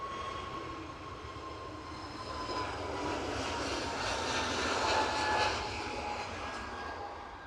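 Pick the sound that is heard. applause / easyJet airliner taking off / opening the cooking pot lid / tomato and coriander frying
easyJet airliner taking off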